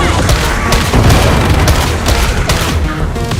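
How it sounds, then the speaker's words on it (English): A loud, booming grenade blast in Warhammer 40K Darktide, heavy and close, surrounded by continuous combat noise and bursts of gunfire, with voices talking over it. "Holy grenade!"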